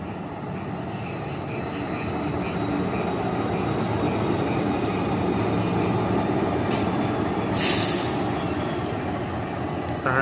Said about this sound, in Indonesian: Lokomotif balik depo teman-teman.